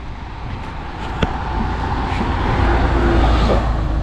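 Steady rumble of buses and traffic passing on a town street in Germany, with a continuous broadband road roar that swells slightly toward the end and a brief sharp click near the middle.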